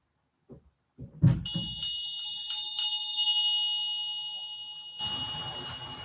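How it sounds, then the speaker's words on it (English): A small bell is struck a few times in quick succession, bright ringing tones that decay slowly, close and loud, followed by a burst of noise. "Ring the bell."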